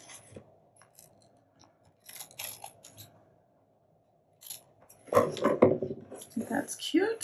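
Scissors snip through the paper edge of a layered craft tag, a few short close cuts in quick succession near the end, following quieter handling sounds and a brief spoken remark.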